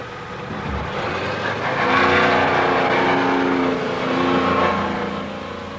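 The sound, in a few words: quarry lorries driving away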